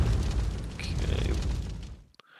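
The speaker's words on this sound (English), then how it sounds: "Naval bombarding Gallipoli" Booming naval bombardment explosions over Gallipoli in a World War I strategy game, a dense, loud rumbling barrage that fills the clip before cutting off abruptly near the end.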